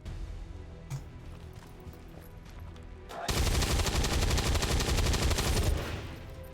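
A quiet stretch breaks into loud, rapid gunfire from the game XCOM 2, a sustained burst of fast repeated shots lasting a few seconds before tapering off.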